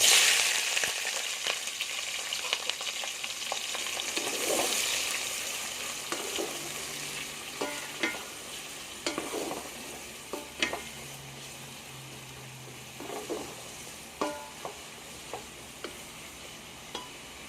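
Steady sizzling of onions frying in hot oil in a pot, with occasional stirring clatter and scraping spikes throughout, close and continuous.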